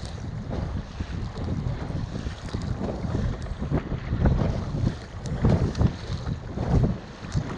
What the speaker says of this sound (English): we got headwinds, probably 25 sustained, 30 gusts.